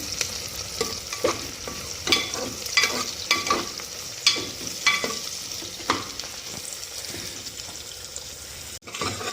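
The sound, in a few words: onions frying on low heat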